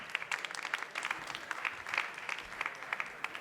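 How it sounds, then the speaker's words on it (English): Faint, steady applause from a conference audience welcoming two speakers onto a stage at a corporate event, a dense patter of many hands with no voices over it, lasting a few seconds. "An applause."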